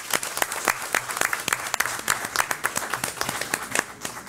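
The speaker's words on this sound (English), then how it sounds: "I personally would like to give them all a huge round of applause" A school board meeting audience breaks into a round of applause, with crisp, irregular claps that stay fairly loud and continuous across several seconds.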